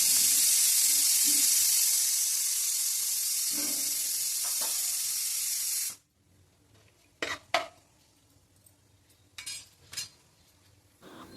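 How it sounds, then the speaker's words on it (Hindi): Whole garam masala dropped into hot oil for a tadka gives a loud broad hissing sizzle for several seconds, then cuts off, followed by a few scattered clinks of utensils. "यहाँ तेल में मैं खड़े गरम मसाले डाल रही थी।"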